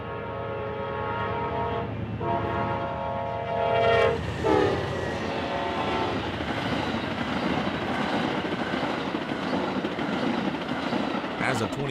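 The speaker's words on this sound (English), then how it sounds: "These days, Amtrak's Southwest Chief flies by at track speed." Amtrak Southwest Chief passenger train rushing past at track speed on the BNSF Marceline mainline, a loud steady roar of wheels and cars with a horn blast near the start, sustained for the whole stretch.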